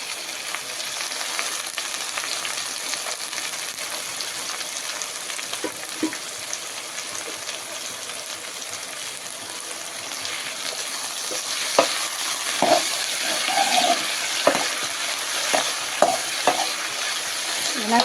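Curry leaves and onions sauté in a pan, a continuous bright sizzle with occasional stirring scrapes and clinks growing more frequent toward the end, no speech.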